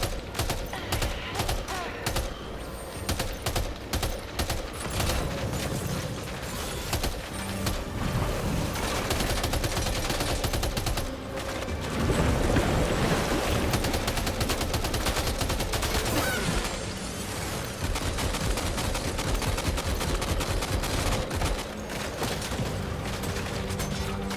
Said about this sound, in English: Ready? Open fire.